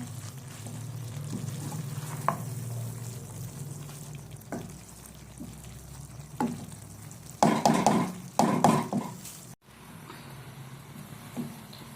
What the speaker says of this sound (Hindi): ये देखें, अम्मी मिक्स कर रही हैं।